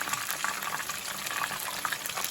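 Chicken wings sizzle and crackle steadily in hot oil after being turned onto their other side for crispy buffalo wings, a dense, even frying hiss with small pops throughout.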